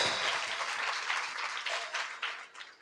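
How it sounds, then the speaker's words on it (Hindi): Short burst of applause from a church congregation at a Sunday healing and deliverance meeting, a brief wash of clapping that tapers off quickly. "जोरदार ताली बजाइए"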